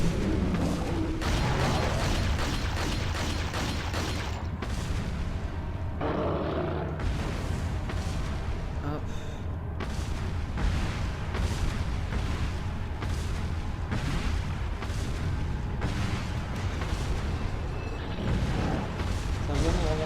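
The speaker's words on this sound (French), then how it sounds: "Pas le choix, on va y aller au fusil à pompe." Shotgun fire in the Resident Evil 4 video game: repeated loud, sharp blasts over a dense, steady bed of game sound effects and noise, continuing through the whole stretch.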